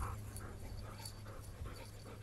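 A six-month-old puppy panting close by, quick soft breathy pulses repeating steadily and faintly with no talking.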